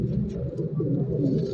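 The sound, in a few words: pigeon cooing at a pigeon market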